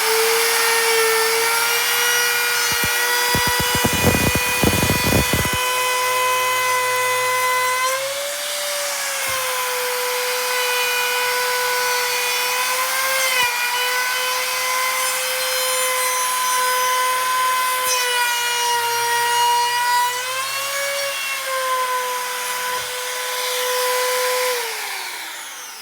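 A Bauer 6.5 amp variable-speed compact router at its highest setting of 6 runs with a steady loud whine, cutting into a scrap of softwood 2x4 with a short burst of rough chatter early on, then the pitch dips and recovers as it bites.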